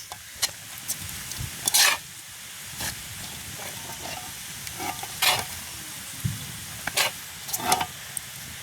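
Food frying in a pan during village cooking, with a low sizzle beneath intermittent scraping and clattering strokes of a spoon stirring, close by and moderately loud.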